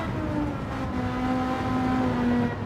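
Race car engine fitted with a racing kit in Gran Turismo 7, a video game: a loud, sustained engine drone with rising pitch as it accelerates, alone without talk.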